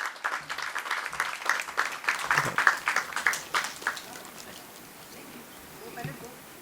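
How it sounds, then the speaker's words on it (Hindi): A theater audience at a staging of the play Gandhari claps in scattered, uneven bursts that fade after a few seconds, followed by quieter room sounds and a faint voice. "जोरदार तालियां"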